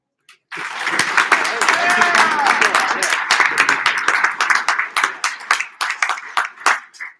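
A banquet audience at a hall of fame dinner breaks into applause, dense clapping from many hands starting abruptly, holding steady, then thinning into scattered individual claps toward the end, with some voices mixed in.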